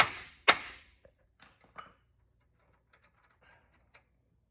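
A few sharp metallic knocks of a hammer on a Chevy Astro front suspension part, the first two loudest, followed by scattered fainter taps and clinks in an otherwise quiet space.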